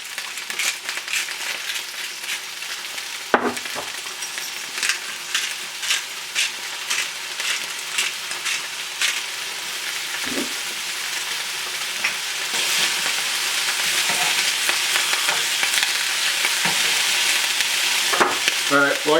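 Beef ribs sizzle loudly in a hot pan, a dense crackling fry broken by sharp clanks and scrapes as the pieces are flipped, with the hiss swelling afterward.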